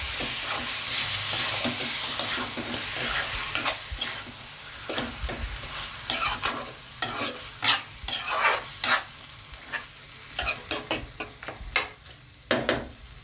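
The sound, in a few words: stirring frying chicken in gongura (sorrel leaves) curry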